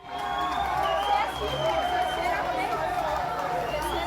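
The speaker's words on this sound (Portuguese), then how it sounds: "Vídeos gravados por populares mostram dezenas de policiais militares sendo vaiados no momento em que entravam em uma escola em reforma" A crowd jeers and boos as dozens of military police enter a school under renovation in Morro de São Benedito, Vitória. The noise is a dense, sustained roar of many voices throughout, with shouting swelling near the start.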